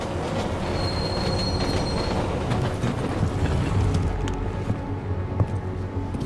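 A metro train in the video game Deus Ex: Mankind Divided rumbles steadily along the rails, with metallic wheel squeals and scattered clanks over a continuous low roar.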